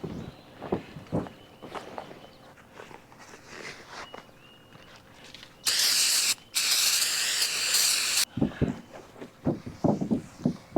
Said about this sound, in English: I'm going to clean this off with some brake cleaner.